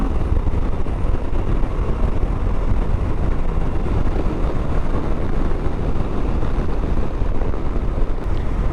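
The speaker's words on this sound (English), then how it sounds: "Bike's certainly not slow. It has pretty good pull, and I like the sound it makes." Steady broadband rumble of a 2022 Moto Guzzi V85TT motorcycle at speed, its engine drone mixed with heavy wind buffeting against the rider's microphone, loud and continuous throughout.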